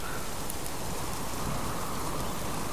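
Steady rain falls in the survival game Subsistence, a dense, even hiss of drops continuing at moderate level with no voices.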